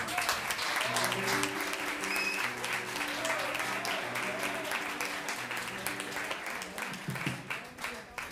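Sustained audience applause at a surprise live music performance, steady and dense throughout with a faint sustained tone and some background voices mixed in.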